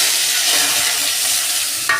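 Chopped vegetables fry in hot oil over cumin tempering for khichdi, a loud continuous hissing sizzle close up, with a brief stirring scrape near the end.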